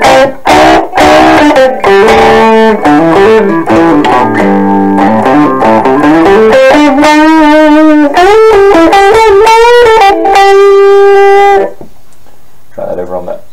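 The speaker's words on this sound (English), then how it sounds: "Turn up a little distortion." With mild distortion added, an instrument rings through a small Radio Shack speaker: loud, gritty sustained notes that bend and slide, then a pause and one final short note.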